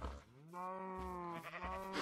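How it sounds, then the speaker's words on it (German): Sheep bleating in the Minecraft video game, a long wavering harmonic bleat that runs nearly two seconds, close and fairly loud, with no talking over it. "du kleines, verfressenes Schäfchen"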